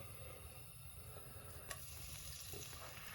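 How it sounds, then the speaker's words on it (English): Garlic and ginger fry in three tablespoons of oil in a pan, giving a steady, moderately quiet sizzle with a faint hiss that runs throughout. There is one brief sharp tick near the middle and no voices. "So I'm gonna fry all of this in my lovely pan over here."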